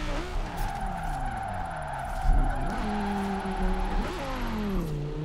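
An Audi R8 drift car with a roof-mounted torpedo, driven up a mountain in a driving sim: a steady engine drone rising and falling in pitch through shifts and revs, with tire squeal mixed in, no voices.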